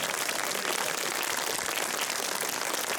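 Audience applause for a singer at an evening song concert, a steady dense wash of clapping filling the whole stretch at moderate volume with no voices over it.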